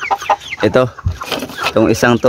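Chicks cluck in repeated short bursts close by, while a person speaks briefly over them.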